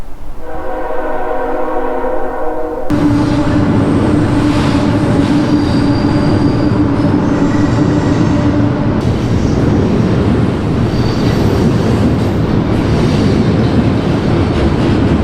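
A loud train rumbles and clatters across an old wooden trestle bridge after a quiet start with a horn-like tone, heavy rolling vibration through the wood and wheel squeal continuing steadily.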